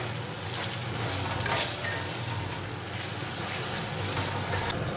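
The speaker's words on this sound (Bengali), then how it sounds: "ভালো করে আদা ভাজা হয়ে গেছে" Ginger sizzles and fries in a hot pan, a steady, close crackling hiss running without a break and holding an even loudness throughout.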